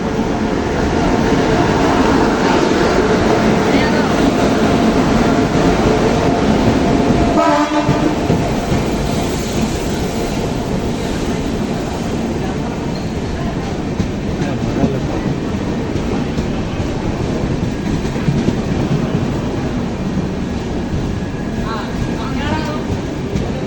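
A train rolling along rails in India, a loud continuous rumble with rhythmic clatter heard from close by, and a brief horn-like tone partway through.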